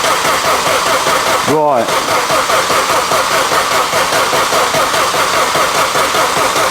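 Vauxhall Astra VXR with a Z20LEH engine turned over on the starter, a brief loud cranking burst amid constant heavy noise, a voice speaking briefly.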